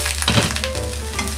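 Jajangmyeon-style yakisoba noodles sizzle steadily in a frying pan as their second side browns, with a soft continuous hiss and a few light stirring scrapes.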